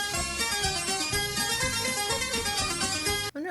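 A track plays from a vinyl record, a busy, dense electronic tune with steady bouncing rhythm, cutting off abruptly near the end.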